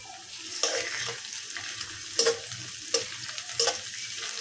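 Teasel gourd softened with salt frying in a pan with a pinch of cumin paste, steady sizzle broken by several sharp stirring scrapes and clinks, close and fairly loud.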